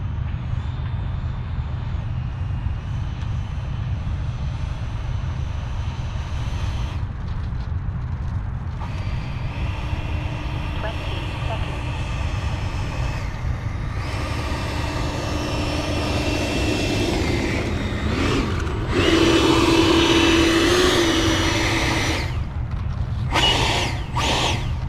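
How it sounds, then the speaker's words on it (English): An E-flite Blue Angel RC model jet flies past with a steady ducted-fan whine over broad mechanical noise, the pitch rising and swelling louder toward the end as it takes off; there is no talk. "E-Flight Blue Angel. Sound check. Taking off."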